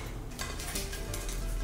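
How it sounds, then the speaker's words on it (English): Aluminum foil strips are handled and pressed into metal layer pans, making soft, intermittent crinkles and light scrapes close by in a quiet kitchen. "place 2 strips of aluminum foil 2 to 3 inches wide in each of the layer pans."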